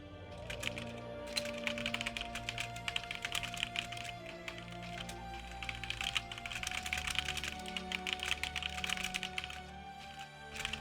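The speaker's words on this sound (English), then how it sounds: "I'm just typing something to someone" Rapid typing on a computer keyboard, a steady stream of close, crisp key clicks in uneven bursts for about ten seconds, with no talking.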